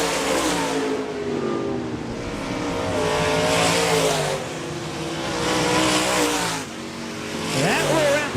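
Dirt track race cars roar through the turns at Park Jefferson Speedway, engines revving loud and continuous with rising and falling passes, while an announcer calls the race over the noise.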